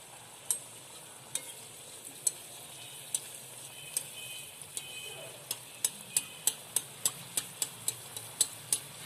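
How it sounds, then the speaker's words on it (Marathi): Anarsa sweets frying in hot oil in a wok make a quiet, steady sizzle, with sharp, regular ticking clicks repeating above it throughout. "त्यामध्ये आपण अनारसे सोडत आहोत."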